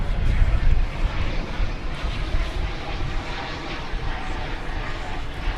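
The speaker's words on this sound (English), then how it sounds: "Cessna 560 XL Citation XLS arriving from Guthrie, which I believe is in Oklahoma." A NetJets Cessna 560XL Citation XLS business jet arrives at DFW airport with a moderate, rough jet rumble that swells slightly early on, then holds steady. The sound is somewhat distant and comes with a faint windy hiss.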